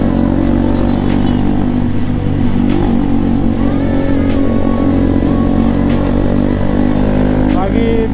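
RS200 motorcycle engine revving hard during a burnout at an Independence Day stunt ride, a loud sustained roar with rising and falling throttle pulls, and voices talking underneath.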